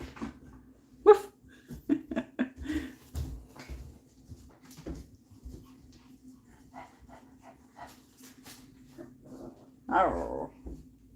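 A dog growls and barks in a string of short, irregular bursts, with whimpering yips between them and a louder outburst near the end, heard close indoors over a steady low hum.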